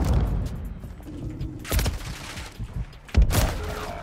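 Glock pistol fire rings out in a Modern Warfare online match, two or three loud, sharp bursts of shots spaced a second or so apart over a busy game background, with no voices.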